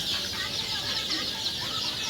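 Sonali super hybrid chickens cluck in a steady, dense chorus, a flock heard at close range with continuous overlapping calls and no voices.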